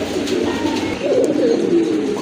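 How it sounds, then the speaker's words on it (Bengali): Fancy pigeons, a pair of putul gola and rani (queen) birds, cooing steadily and close by at a pigeon market, a continuous low rolling coo with no talk over it. "আরেক জোড়া কবুতর, এটা হচ্ছে আপনার পুতুল গোটা কবুতর, রানী কবুতর"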